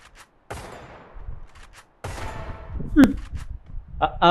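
Gunfire in the mobile battle game Free Fire: sharp, loud bursts of shots at the start and midway, each trailing off with a rumbling tail, with brief voices near the end.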